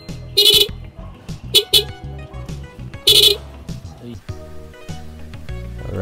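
Horn on a Yamaha Sniper 150 motorcycle tested from an illuminated handle switch, sounding in a few short honks and one longer blast, close and loud, with someone talking between them.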